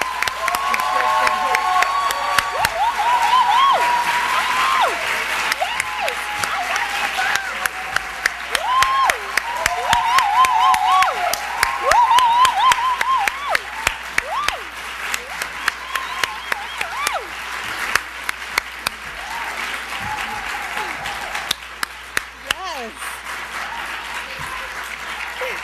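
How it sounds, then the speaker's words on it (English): An audience applauds at a youth leadership presentation in Brooklyn, with loud, sustained clapping and some cheering that lasts throughout and tapers slightly near the end. "Please give them a round of applause."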